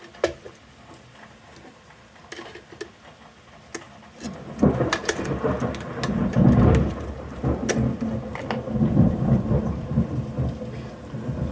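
A thunderstorm with rain: scattered sharp drips and crackles at first, then a heavy rolling rumble of thunder swells under steady pattering rain, loud and enveloping, with a second rumble later and no voices.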